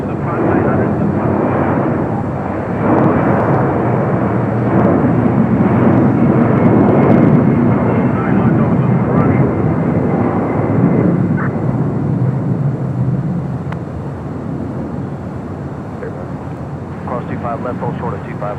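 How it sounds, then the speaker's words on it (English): A Delta Boeing 767 jet rolls down runway 25 Right at LAX for takeoff, a loud, broad roar that swells and then gradually fades, with a voice talking over it. "we got that Delta 767 now rolling down at 25 right"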